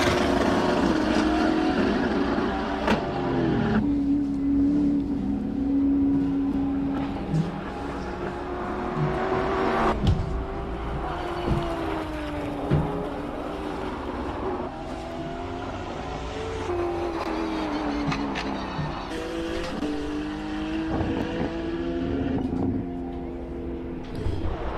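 Powerful race cars climbing the hill at Simola Hillclimb during a King of the Hill event, engines roaring and revving as they pass at varying distances, gear changes and rising pitches under steady loud commentary.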